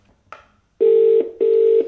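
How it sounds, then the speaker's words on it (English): A phone ringback tone plays through an eMeet Luna speakerphone twice in steady, even pulses, loud and clear, after a brief click. "So it's ringing directly through the eMeet."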